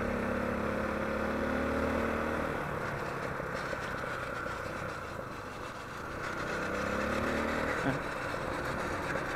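Loud motorcycle engine drones steadily while riding through a cold, wooded area in Negros Occidental, the tone rising and falling with throttle changes and wind rushing across the microphone.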